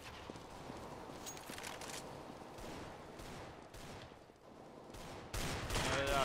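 Gunfire in a CS:GO deathmatch comes as a busy stream of rapid shots and bursts, some nearer and louder, some distant, with footsteps mixed in and a louder flurry at the end.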